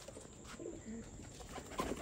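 Soft, low pigeon coos sound faintly against a quiet background hum, a few brief calls spread out.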